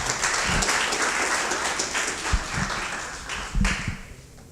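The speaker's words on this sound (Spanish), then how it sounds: "Recibamos con un fuerte aplauso al ingeniero Arroyo." Applause from an audience at an engineering workshop on sustainable development, steady, dense clapping that fades gradually toward the end, a few louder thumps standing out in the middle.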